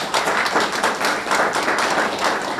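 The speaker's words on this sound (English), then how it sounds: "please give a round of applause to our Secretary" A round of applause at a Rhode Island press conference for the Secretary of State, dense steady clapping from a crowd filling the whole stretch without talk.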